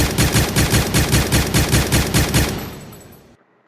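A SCAR-H rifle fires in GTA as a steady rhythmic burst of about ten loud, evenly spaced shots, then the echo fades into silence; no voices.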